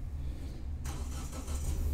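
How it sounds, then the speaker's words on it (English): A car passes outside, heard from indoors as a steady low engine rumble that swells slightly toward the end, with no one speaking. "Hey, look, that's a car."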